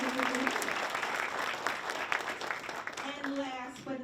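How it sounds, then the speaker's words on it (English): Audience members at a college panel event applaud steadily, with a voice speaking over the clapping near the start and end. "Let's give her a round of applause."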